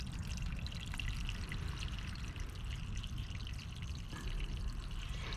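Water pours and trickles steadily out of a self-watering plant container, a continuous close splashing stream that keeps going without a break.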